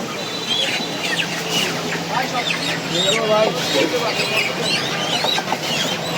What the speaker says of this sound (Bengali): এখন সব দেশি মুরগি বিক্রি হচ্ছে